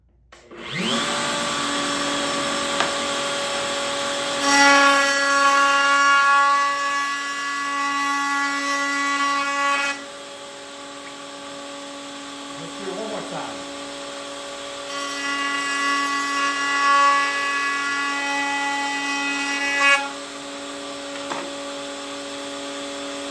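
A drawer box part fed through a woodworking table machine: a loud, high motor whine that rises into a harsher cutting tone for several seconds, eases back, then cuts again in a second pass.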